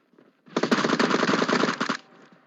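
A long, close burst of rapid automatic rifle fire from an M762 rings out in the mobile battle-royale game PUBG Mobile, roughly one and a half seconds of continuous shots standing alone.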